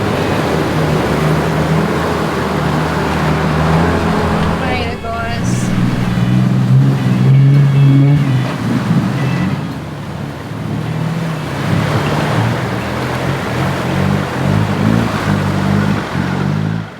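A 4WD car pushes through a knee-deep water crossing on a rough track, with loud rushing and churning water over a low engine drone and a brief lull partway through.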